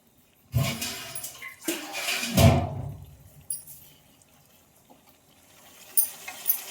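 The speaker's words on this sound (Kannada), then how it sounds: "ನಾನಿಲ್ಲೇ ಸ್ವಲ್ಪ ನೀರು ಹಾಕೋತೀನಿ," Water poured into a cooking pan to make gravy for a dish, two loud splashing pours close by, then quieter clinks and settling sounds.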